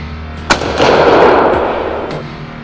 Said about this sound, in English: In a split second, I fired. The shot rang out